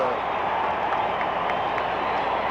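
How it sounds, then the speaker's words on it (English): A packed crowd at a 1984 Wyoming vs BYU college football game roars continuously as the wave sweeps around the stadium, a dense, steady wash of cheering and clapping with no pauses. "Here comes the wave. There it goes, that cheer around the stadium."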